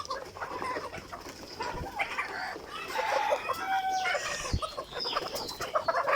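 Mature Egyptian Fayoumi hens cluck steadily in a farm flock, with layered calls and a few sharper squawks and crows over constant background bird noise.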